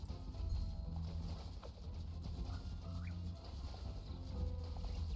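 Horse hooves clip-clop rapidly in a video game beneath a constant bed of game sounds and low tones, faint and continuous.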